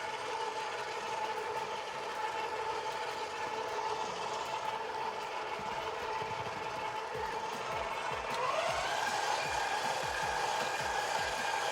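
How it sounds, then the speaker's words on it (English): Meat grinder working ground beef and onion, a steady close mechanical whir with a rhythmic grinding churn that grows slightly louder and rougher toward the end. "Then we're gonna send it through the grinder, little balls of that,"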